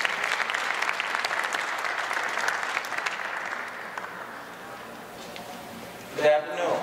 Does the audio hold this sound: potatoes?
no